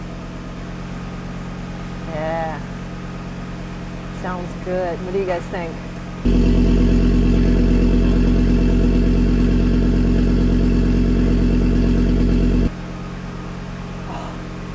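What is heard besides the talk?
Audi RS3 Stage 2 exhaust idling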